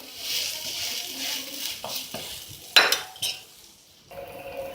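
A spatula scrapes and flips a rava uttapam topped with veggies on a pan, with a few clinks and scrapes of metal against the pan, a sharper clatter near the middle, and a soft background hiss.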